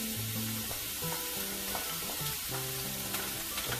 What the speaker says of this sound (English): A couple tablespoons of extra virgin olive oil heating up in there